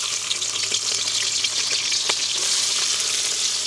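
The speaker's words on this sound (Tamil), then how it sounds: "எண்ணெய் நல்லா எங்களுக்கு கொதிச்சிட்டுது நாங்கள் வட்டி வச்சிருக்கிற வெங்காயத்தை முதல் போட போகிறோம்" Loud, continuous sizzling and crackling of onions frying in hot oil, close up and steady throughout.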